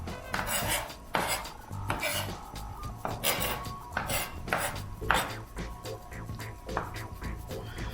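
A knife chops garlic on a cutting board in sharp, uneven knocks, with a few scraping passes as the pieces are gathered, close and clear with no talk.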